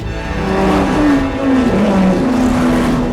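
Race car engines in a film scene, a loud continuous roar with shifting engine pitch as the cars drive at speed, steady and close, no talk.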